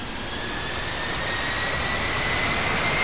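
An airliner taking off from runway 4 left at JFK in the Infinite Flight game, a steady jet engine roar that slowly builds in loudness over a few seconds, heard alone.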